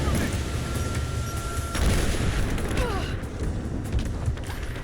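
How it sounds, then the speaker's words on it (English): Explosions and gunfire rumble loudly through a battle in the video game Rise of the Tomb Raider, dense continuous booms and crackling with a brief tonal whine, without speech on top. "Ah, explosions."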